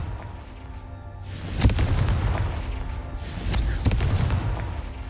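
Two Confringo fire spells blast in Hogwarts Legacy, each a sharp, booming burst with a hissing, crackling tail, sounding loud and close about two seconds apart over a low game rumble.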